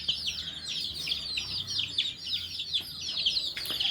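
Chickens kept at a home cluck and chirp in a quick busy chatter, many small calls overlapping close by over a low background hum, with no voices.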